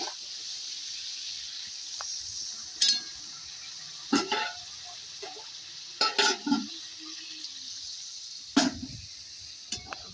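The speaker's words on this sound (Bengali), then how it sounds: "এবার আমি ভেজে রাখা চিংড়ি মাছটা দিয়ে একটুখানি নেড়ে চেড়ে নেবো" Kohlrabi and fried shrimp curry is stirred in a pan over a soft, steady sizzle, with a spoon scraping and clinking against the pan in short, scattered bursts, close and moderately loud.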